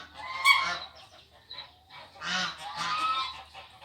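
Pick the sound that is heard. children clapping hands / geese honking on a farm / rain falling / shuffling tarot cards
geese honking on a farm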